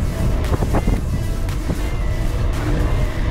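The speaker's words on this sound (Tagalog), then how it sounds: "Kalakas ng hangin." Strong headwind rushes past a cyclist riding the Jeddah Corniche circuit, a loud, steady buffeting roar across the microphone with brief gust swells and no speech.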